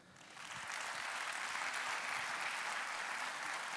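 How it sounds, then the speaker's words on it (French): An assembly audience applauds Jacques Pfister, president of the Chamber of Commerce, with dense, sustained clapping that builds quickly and holds steady at moderate loudness throughout. "qui est là, je vous propose de l'applaudir"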